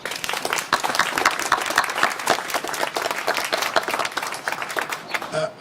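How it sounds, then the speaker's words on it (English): Audience at a provincial government announcement on supportive housing in Hamilton, Ontario, applauding: a full, sustained burst of many hands clapping that stays loud throughout, with some crowd noise mixed in. "So let's give them a round of applause."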